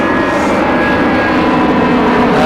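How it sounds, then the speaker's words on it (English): A jumbo jet flying directly overhead, a loud, continuous engine roar with a steady whine that fills the whole stretch, close and unbroken, with no speech. "I've got a jumbo jet right over my head"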